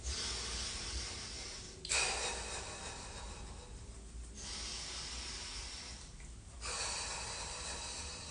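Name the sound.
breathing with eyes closed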